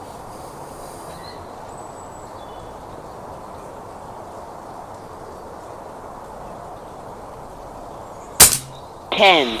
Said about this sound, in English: that's 11 shots for the multi-shot